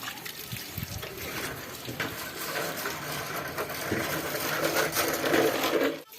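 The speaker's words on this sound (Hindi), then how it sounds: "अब साबुन से हाथ धोए जा रहे हैं" Hands are washed with soap under running water in a village home. A continuous close rush and trickle of water carries on throughout, with faint background voices.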